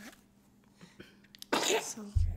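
A single close, sharp sneeze bursts out after soft, quiet speech, followed by a low thump, indoors during a calm whispered show-and-tell of souvenirs from a trip to Tonga.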